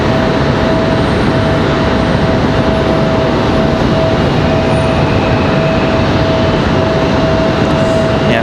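Airplane at Raleigh Durham International Airport, a loud, steady broadband jet engine roar with a faint tonal whine, filling the whole stretch with no speech.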